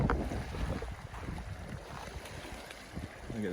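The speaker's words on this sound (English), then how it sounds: "It's a windy day today." Steady, blustery wind buffets the microphone outdoors on a windy day along the Dusy-Ershim off-highway trail, a loud low rumble with gusting swells and no speech.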